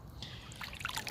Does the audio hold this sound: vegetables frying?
no